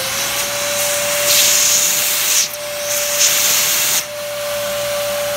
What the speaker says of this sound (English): so suck the debris out of it again.